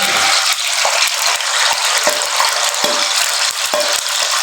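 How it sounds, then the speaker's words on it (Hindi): A finely chopped medium onion fries in hot oil, a loud, close, steady sizzle, with sharp clicks from stirring scattered throughout and no voices. "ऑयल गर्म हो चुका है, इसमें मैं ऐड कर रहा हूँ 1 अदद मीडियम सा प्याज, जिसको बारीक काटा हुआ"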